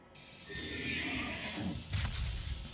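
A horse whinnies in the video game Tales of Berseria, a loud, drawn-out neigh that rises and falls, followed by a brief lower snort and a few hoof clops close by.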